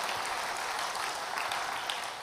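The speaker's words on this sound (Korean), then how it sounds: "이쯤 나오면 박수를 한번 해야 돼." A church congregation claps together during a sermon at a city mission rally in Chuncheon, a steady, dense wash of applause holding at even loudness for about two seconds without letting up.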